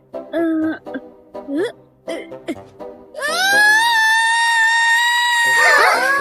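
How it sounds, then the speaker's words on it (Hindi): After a few short voiced sounds, a loud, sustained high-pitched cartoon scream rises and holds for about three seconds, ending in a wavering cry. "क्या तुम सबने वो चीख सुनी?"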